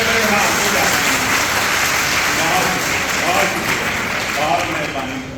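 An audience at a seminar applauds loudly and steadily, the dense clapping filling the room throughout, with voices mixed in.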